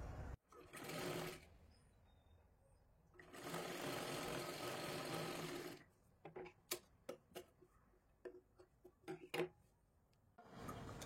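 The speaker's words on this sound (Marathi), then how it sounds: "इथे एक 5 नंबरची शिलाई मारून घ्यायची आहे" A sewing machine runs in two bursts of rapid stitching along a blouse seam, then falls to scattered clicks and ticks at close range.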